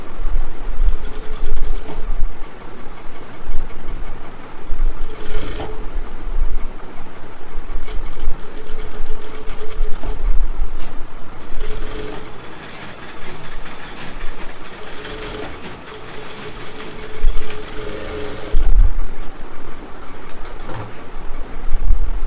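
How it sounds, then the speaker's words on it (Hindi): A sewing machine runs steadily through most of the stretch, stitching a folded belt piece onto a double katori blouse, with short pauses and some background rumble and no speech. "इस वाले पार्ट्स को हमें इस तरह से फोल्डिंग करते हुए सिलाई करनी है"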